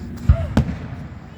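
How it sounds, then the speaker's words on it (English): Holiday fireworks burst nearby at night with two heavy, thudding booms in quick succession and a faint whistle between them, then fading rumble while people's voices carry over the scene. "They're bombs bursting in air."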